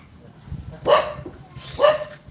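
A dog barks twice, sharp and fairly close, with a pause between the barks over quiet background.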